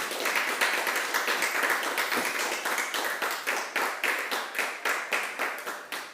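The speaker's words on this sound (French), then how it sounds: "Merci au public qui participe à pleine voix avec ces applaudissements" Rhythmic audience clapping on a TV show set, many hands beating together in a steady, even pulse, moderately loud and without talking.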